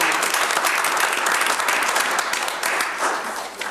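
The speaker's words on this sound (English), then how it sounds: "So we applaud you for that" A room at a Village of Wheeling board meeting breaks into steady, dense applause from many people, holding strong throughout before easing slightly at the end.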